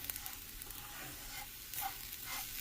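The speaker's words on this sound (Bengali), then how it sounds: "নারিকেলটা দিয়েও একটু ভেজে নিচ্ছি 2 মিনিটের মতো" Semolina and grated coconut frying in ghee make a soft, continuous sizzle with faint crackles and occasional stirring scrapes, quiet and close, with no voices.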